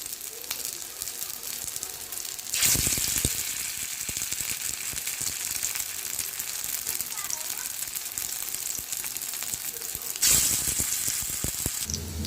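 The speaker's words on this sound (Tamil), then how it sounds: "சிம்மில் வச்சு வறுத்துக்கோங்க." Shami kabab made with uppu kandam (salted dried meat) frying in a pan over a low flame gives a steady close sizzle and hiss, with louder crackling surges that rise and fall.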